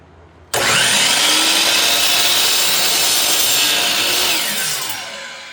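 A Jet band saw cutting through wood starts abruptly and runs as one loud, continuous rasping whine for several seconds, then tapers off as the cut finishes; nearby and unaccompanied by speech.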